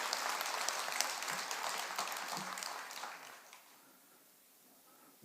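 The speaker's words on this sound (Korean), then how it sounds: "원래 박수를 잘 안 치던데" A crowd at a Buddhist dharma lecture applauds with dense, steady hand-clapping that fades out after a few seconds, leaving a quiet hall with a faint last clap.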